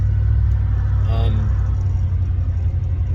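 A truck engine droning low and steady while driving, a constant close rumble with a brief faint tonal blip midway, no clear talk.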